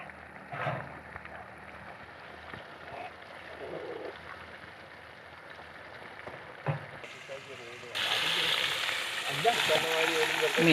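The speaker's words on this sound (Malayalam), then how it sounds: "നമ്മൾ മീൻ ഇട്ട് കൊടുക്കാൻ പോവുകയാണ്." Tilapia fish hits hot cold-pressed coconut oil and bursts into a loud, steady crackling sizzle, following a stretch of quieter bubbling oil and faint kitchen handling noises.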